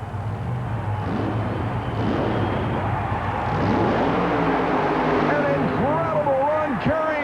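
The super modified mud racing machine "Let's Boogie" launches off the starting line at a 1991 USHRA show in Anaheim. A loud engine roar holds steady, then its revs climb, under an announcer talking throughout.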